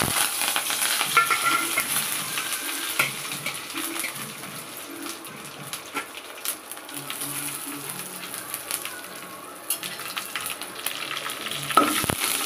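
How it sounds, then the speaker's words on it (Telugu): Steady crackling sizzle of tempering spices frying in hot oil, continuous and close, with occasional stirring clinks and no talking. "ఆయిల్ వేడైంది, పోపు వేసుకుంటున్నా."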